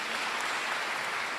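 Steady, dense applause from a church congregation honouring the church elders at a commissioning service, with continuous clapping throughout.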